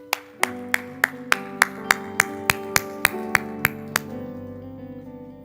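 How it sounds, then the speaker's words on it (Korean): About a dozen sharp, evenly spaced claps ring out in a church worship service, loud and rhythmic, then fade into a lingering sustained tone. "우리 감사와 영광의 박수 드리겠습니다"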